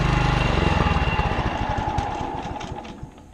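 A cold John Deere JE75 self-propelled lawn mower engine runs up close, a loud, steady rhythmic putter with even pulses that gradually eases and softens toward the end.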